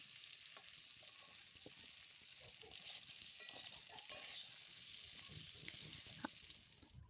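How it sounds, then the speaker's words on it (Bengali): Potato pieces fry with turmeric in oil in a kadai, a continuous bright sizzle with faint stirring scrapes underneath, steady throughout before fading at the very end. "হলুদ দিয়ে আলুটা ভালো করে ভেজে নেব।"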